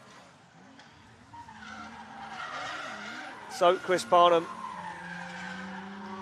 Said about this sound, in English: You can hear that car just not making the power it needs to make